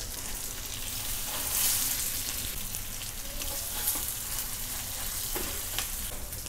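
Paneer and cheese stuffed chillies, breadcrumb side down, fry in oil on a tava over a low flame, giving an even close-up sizzle with small crackles throughout.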